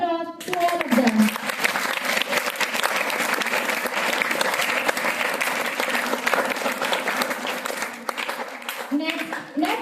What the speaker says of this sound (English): Give a huge round of applause to all of them.